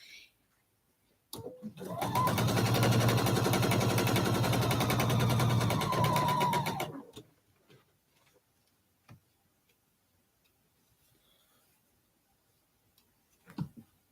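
Sewing machine stitching a quilt block in one sustained run of fast, rhythmic clattering for about five seconds, loud and close, then stopping, followed by faint clicks and handling sounds.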